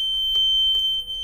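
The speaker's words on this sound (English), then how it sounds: "we have an alarm at the fire panel, we have our alarm zone" A fire alarm panel sounds a steady, piercing electronic tone at one constant high pitch, loud and continuous, with a couple of faint clicks behind it.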